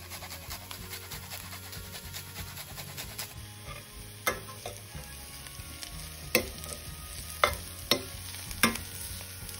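Garlic frying in oil with turmeric for potato pulao gives a continuous low sizzle, with a run of sharp spoon clicks and taps against the pan in the second half, close and without talk.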